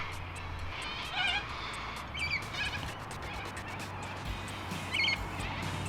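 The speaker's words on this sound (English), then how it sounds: "my ears were actually greeted by a very unique bird call" Harsh, rasping bird calls of the kind nicknamed dying crows sound in short repeated bursts outdoors over a dense buzzing insect hum.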